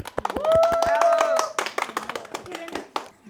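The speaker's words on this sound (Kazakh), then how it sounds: "Шапалақ." An audience at a spiritual retreat session claps, with scattered hand claps running through the short stretch while voices sound over and between them.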